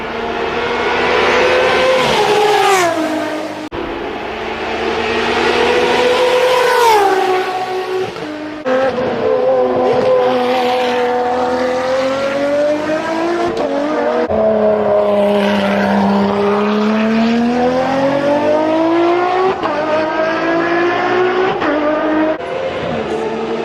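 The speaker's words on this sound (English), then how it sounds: "Yeah, that is the Ferrari" A Ferrari 599XX Evo track car revs hard on a circuit, its high-pitched engine climbing and dropping through repeated gear changes, loud and sustained with no talking.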